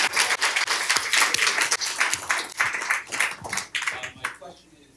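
Audience applause at a live talk event, many hands clapping in a loud, busy burst with distinct sharp claps, gradually thinning and fading away toward the end.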